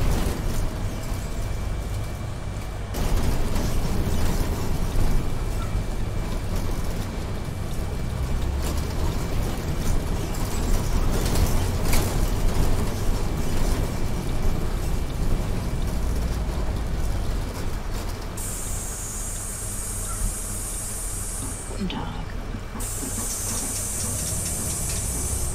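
Bus bodywork rattling and creaking continuously over road noise in the OMSI 2 bus driving simulator, a steady loud hissing rumble with no engine sound standing out and a shrill whine appearing near the end.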